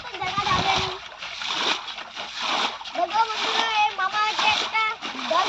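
Water splashes and sloshes repeatedly as a small village pond is bailed out to catch native fish, busy and close, with children and other voices talking throughout.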